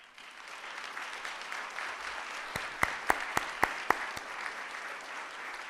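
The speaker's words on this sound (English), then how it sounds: "Let's give another round of applause to our 2018 Community Achievement honorees" Soft, steady applause from a crowd at a community awards breakfast, with a short run of sharper, louder claps punctuating the middle before it settles again.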